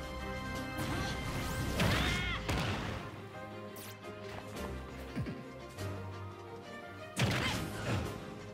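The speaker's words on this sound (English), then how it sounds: "Byleth's fully charged down smash deals more damage than her down special." Heavy smashing impacts from Byleth's fully charged down smash in Super Smash Bros., loud crashing hits with whooshes, a big burst near the start and another near the end, over game music.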